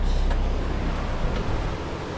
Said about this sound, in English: The waves are pumping today.